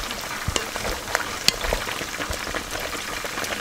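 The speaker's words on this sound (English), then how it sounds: "So I'm going to stir." Vegan chicken soup ingredients for nkrakra nkwan crackle and fry in a pot as they are stirred, a dense close sizzle with scattered scraping and tapping clicks, no voices.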